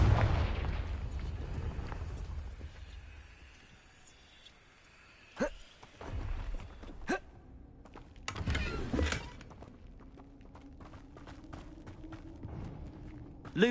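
Confringo fire spell explosions in Hogwarts Legacy: a rumbling blast at the start fading out, then several sharp cracking bursts and booms scattered across the quieter middle, with faint game ambience between.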